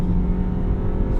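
A 1999 Honda Civic Si (EM1) with a 5-speed manual pulls hard as its VTEC engages around 5,500 rpm, a steady, dense, buzzing engine note heard from inside the car without a break.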